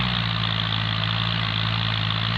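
A tractor engine idles steadily on farmland, a loud continuous low rumble with even vibration throughout and no voices.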